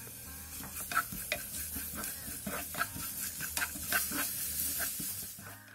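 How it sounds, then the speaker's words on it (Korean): A vegetable garnish stir-fries over medium-low heat with a continuous soft sizzle, punctuated by repeated spatula scrapes and taps against the pan, close and unaccompanied by voices. "중약불에서 재료들의 숨이 죽을 때까지 볶아주세요"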